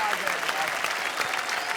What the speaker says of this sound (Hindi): तो भाई आम आदमी के लिए एक बार जोरदार तालियां।